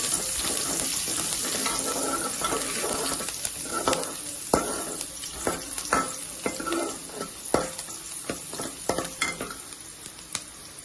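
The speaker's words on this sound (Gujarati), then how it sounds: "હિંગ નાખીશું, મીઠા લીમડાના પાન ઉમેરીશું, ડુંગળી નાખીશું, સારી રીતે સાંતળી લેશું" Onions and curry leaves sauté in hot oil with asafoetida for Kathiyawadi kadhi, giving a steady close sizzle broken by repeated sharp spoon scrapes and clicks against the pan, with no talking.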